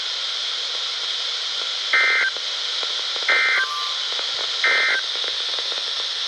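Emergency Alert System tones for a special marine warning come over a weather radio. Three loud, identical two-tone data bursts sound at steady intervals above a constant hiss of static.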